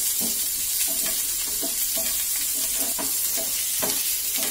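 Onion, green chilli and ginger-garlic sauté in hot oil for channa masala, a steady close sizzle with soft periodic stirring scrapes running throughout, no voices.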